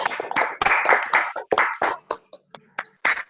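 Scattered clapping from a small group greeting a speaker at a webinar session, uneven bursts of hand claps that thin into a few separate claps, with voices mixed in.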